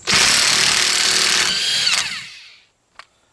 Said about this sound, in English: I'm going to use my electric DeWalt guy here